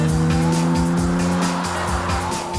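A restored 1964 Jaguar E-Type 3.8 fixed head coupe being driven, its engine droning loudly and steadily with a deep tonal hum and rhythmic pulsing, close up, with no talk.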